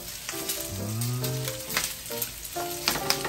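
Igado, a Filipino pork and liver dish, is stirred as it cooks, giving a close sizzle with scraping strokes, while brief tonal sounds rise and fall in the background.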